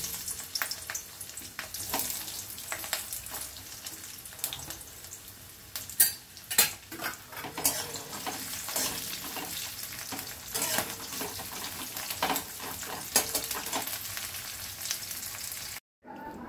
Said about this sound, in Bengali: তেলটা গরম হয়ে গেছে, এবারে আমি পেঁয়াজ কুচিগুলো দিয়ে দেবো